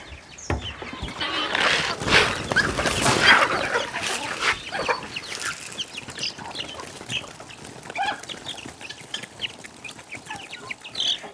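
Hens and chicks cluck and cheep around a farmyard, with a busy burst of overlapping calls early on that thins into scattered clucks and peeps.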